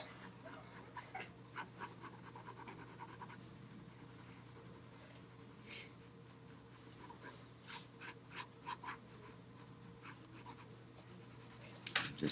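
Graphite pencil shades on paper in soft, repeated scratchy strokes, close and faint, with rhythmic bursts of scratching between quieter pauses and a steady low hum underneath.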